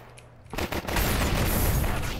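Rapid gunfire bursts in a shooter video game, starting abruptly after a brief lull and then rattling on loud and dense as overlapping shots and booms keep going.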